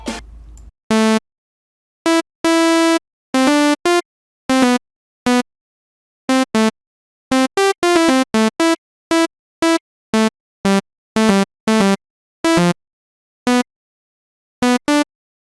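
FL Studio synth saw-wave preset firing short, buzzy staccato stabs in an uneven rhythm, each burst bright and harmonically rich, separated by clean silences.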